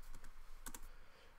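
Keys clatter on a computer keyboard during online Pokémon VGC teambuilding, a quick run of soft close clicks with a couple of sharper taps, faint and alone without talk.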